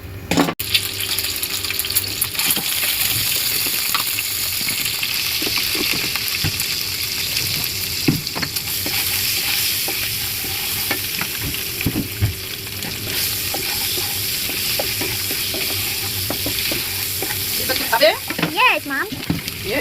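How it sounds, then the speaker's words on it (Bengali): Eggs fry with spices in a pan, a continuous close sizzle with frequent stirring scrapes and some watery splashing throughout. "হয়ে গেল আমার ডিম ভাজি, এই মশলা ভিতরে তারপরে কষা কষা।"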